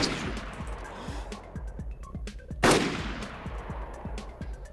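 Enemy gunshots in the video game DayZ ring out as a string of sharp, separate cracks at steady intervals, one louder blast near the middle, heard alone over a faint background.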